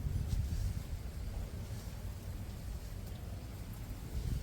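Soft, steady rain patters over a home garden of roses, hibiscus and other flowering plants, a faint continuous hiss with low rumbling underneath.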